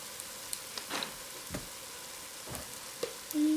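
Chopped garlic sizzles softly in a pan while being stirred, a faint steady frying hiss broken by a few quiet scrapes.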